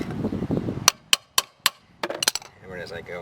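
Several sharp metallic hammer strikes on a stuck locking lug nut of a 2001 Jeep Wrangler ring out at a steady pace, then a quicker cluster of blows, with muffled rustling before them.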